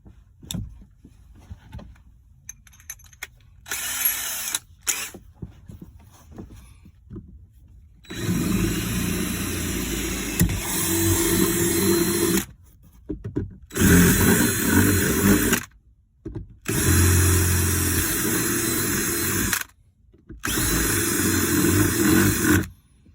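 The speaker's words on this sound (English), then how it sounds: "I'm gonna drill out all of these holes" Loud power drill whirring in several long bursts separated by short pauses, drilling holes in the plastic third-row seat flap of a 2021 Ford Expedition, close by, with a few lighter knocks and handling sounds at the start.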